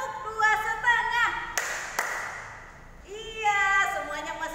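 Two crisp hand claps ring out close by, separated by a short pause, between stretches of a voice speaking.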